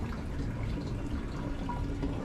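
Water pours steadily into a camper's tank, a continuous close gushing and filling sound with no voices over it.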